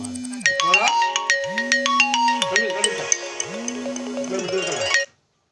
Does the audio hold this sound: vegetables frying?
no